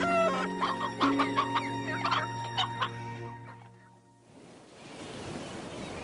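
Chickens cluck and squawk in a noisy barnyard, several birds calling over each other in short bursts, with a held tonal background, before fading into a soft washing noise.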